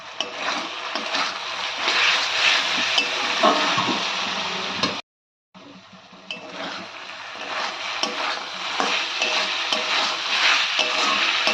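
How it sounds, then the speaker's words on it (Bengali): Vegetables for veg chowmein stir-fry over high heat, a busy crackling sizzle with scraping and tossing in the pan, briefly cut to silence midway before the frying resumes just as loudly. "ভেজিটেবলগুলো সবসময় হাই হিটে ফ্রাই করবেন, তাহলে ভেজিটেবলগুলো ক্রাঞ্চি থাকবে"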